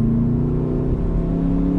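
Skoda Kodiaq RS with the 2.0 BiTDI diesel in sport mode, a steady droning engine note enhanced through the exhaust, loud and close, holding an even hum with a slight rise, no talk.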